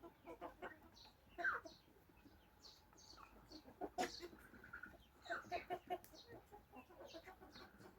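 Young chickens of a large breed cluck and peep softly at a distance, scattered calls rising and falling over a quiet background, with no voices.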